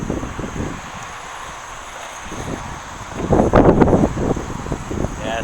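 Heavy wind blows across an outdoor Coleman single-burner propane stove, a steady rushing buffet on the microphone that swells into a stronger gust toward the end.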